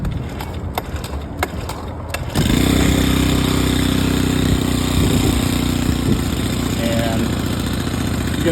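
A small gas engine on a motorized bicycle starts after a few clicks and knocks, then runs in a steady, buzzy, high-pitched putter close by, with faint talk over it.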